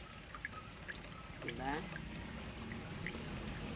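On a rainy, drizzly morning, rainwater runs from a roof gutter into a container below, a steady close trickle and pour with a brief swell of splashing, while a person speaks briefly.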